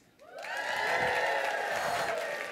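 A keynote audience at IMEX America 2015 bursts into wild applause and cheering, rising quickly from near silence into loud clapping, shouts and whoops that stay strong to the end.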